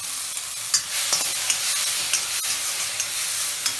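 Grated tomatoes sizzle steadily in a hot iron kadhai over a high flame, a loud continuous frying hiss broken by small stirring taps, close up and without talking.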